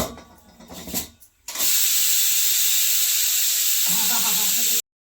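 A pressure cooker full of cooked vegetables lets off a loud, steady hiss of steam that starts abruptly after a few quiet clanks and runs for about three seconds before cutting off sharply.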